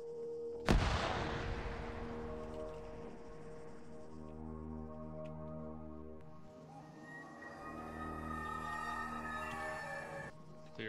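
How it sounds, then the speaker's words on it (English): A grenade explosion in a military game lands as one sudden sharp boom with a long rumbling decay, followed by a sustained low droning tail. "Grenade out."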